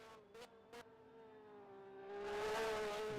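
A red and black Porsche race car approaches a lakeside castle at a hill race, its engine a steady harmonic drone that swells louder toward the end, with two short bursts of noise early on.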